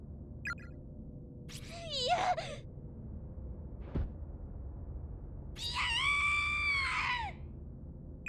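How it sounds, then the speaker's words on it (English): A girl screams in the Corpse Party video game. Two long, shrill, wavering screams are heard, the second louder and sustained, over a low droning ambience with a sharp thud between them. "And she was screaming."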